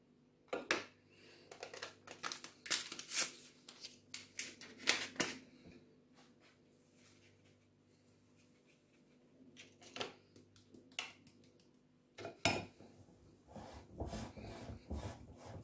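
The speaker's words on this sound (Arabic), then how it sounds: "صافي نبقى نخلط" Orange cake batter being mixed with flour in a bowl, heard as irregular close scraping and tapping strokes that come in bursts, with a quieter stretch in the middle before the mixing picks up again.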